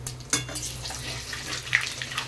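Panch phoron, dried red chilli and bay leaf sizzling in hot oil, a close, steady crackle with a couple of brief sharper pops and spatters, no voices.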